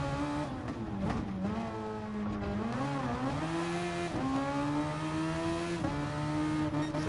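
A Dallara Super Formula race car with a Toyota engine in the Gran Turismo Sport video game, lapping the Nurburgring Nordschleife. The engine drones loud and steady, with its pitch rising and dropping through gear changes.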